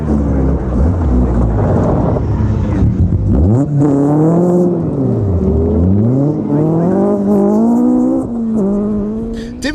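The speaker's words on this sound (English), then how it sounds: "it looked as though Andy needed to perfect his handbrake turns." Rally cars doing handbrake turns at a June 2001 UK rally event, engines loud and close, revving up and down in sweeping surges as the car slides and accelerates away.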